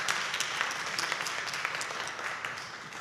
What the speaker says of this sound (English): let's keep that applause going for our wonderful panel